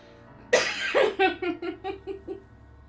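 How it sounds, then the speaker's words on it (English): One sharp cough followed by a string of short, rhythmic breathy bursts that fade out, close and fairly quiet. "I got a cough."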